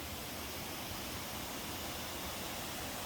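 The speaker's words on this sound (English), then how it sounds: "look at this incredible waterfall." A 15-metre mountain waterfall in the Pirin Mountains of Bulgaria roars as a steady, dense wash of falling water with no pauses, fairly faint and heard alone.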